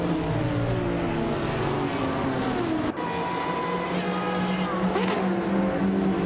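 Race cars in a video game roar steadily around the Deutschlandring, engines droning loud and continuous with shifting pitch, a brief dip near the middle, and faint tire noise mixed in.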